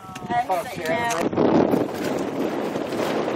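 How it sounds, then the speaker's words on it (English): Strong wind buffets the microphone on a Gulf Coast fishing boat, a steady broadband roar that swells and holds loud throughout, with a voice talking over it at the start. "We got the wind pumping today, so we had to hit some of these back lakes, try to get out of the wind."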